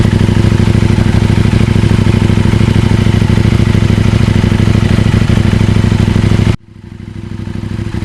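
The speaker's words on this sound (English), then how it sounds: "Baffle out. Now you can probably see that the volume hasn't gone up at all really, but the note's much deeper." KTM 790 Adventure motorcycle exhaust with the baffle removed, revving loud and close with a deep, steady, throbbing roar that cuts off abruptly near the end, leaving a brief fading tail.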